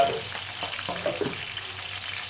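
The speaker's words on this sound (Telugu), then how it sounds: "ఈ నల్ల మిర్చిని మనం కొద్దిగా వేయించుకొని" Black chillies frying in a pan, a continuous hissing sizzle broken by a few faint spatula knocks and scrapes, close and even in level, with no speech.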